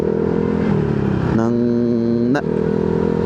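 A motorcycle fitted with an added driving light and horn rides along a street, its engine droning steadily and then shifting pitch upward through a rev before settling back, close and prominent.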